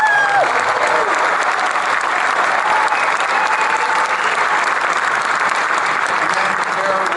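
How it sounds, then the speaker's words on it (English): A theater audience claps in steady, dense applause that fills the room without pause, with a few voices faintly audible beneath it. "so please give a raucous round of applause."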